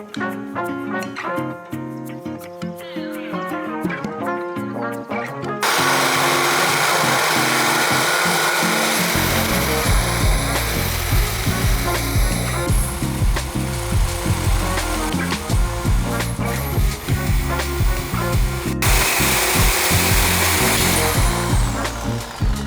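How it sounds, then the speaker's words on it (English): A Sawzall reciprocating saw cuts through a motorcycle swingarm in a Yamaha Radian FJ600 build, a loud, continuous rasping buzz that starts after a short musical intro and runs steadily to the end under background music. "we're gonna go ahead and get the Sawzall out. We'll do our initial cut"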